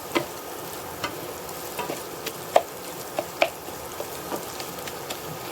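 Beaten egg mixture fries in ghee in a pan while being stirred and broken up, giving a soft continuous sizzle punctuated by scattered sharp clicks and taps.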